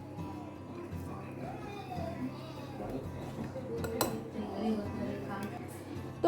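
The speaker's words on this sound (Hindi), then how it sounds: "अच्छे से मिक्स करें।" Rose cookie batter with white sesame seeds is stirred in a bowl, giving soft scraping and light clinks of utensil against the dish. The sounds are irregular, with a louder clink near the end, and faint talk runs underneath.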